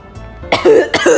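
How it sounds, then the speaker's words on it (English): Two quick, harsh coughs close to the microphone, back to back in about a second, with no talking. "Sorry, I had to cough."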